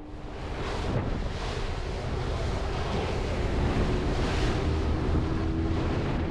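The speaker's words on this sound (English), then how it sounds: "That night, a storm picks up and we have to move locations." Storm wind and crashing waves off the Alaskan coast on Kodiak, a dense, steady roar with heavy buffeting on the microphone and surging surf, loud and continuous throughout.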